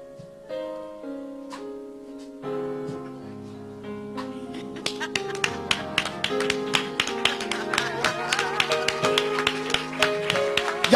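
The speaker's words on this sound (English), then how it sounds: "Y'all can't clap no better than that." A church congregation at a live worship service claps in a steady rhythm, with regular sharp claps joining about halfway through and continuing over loud music with singing.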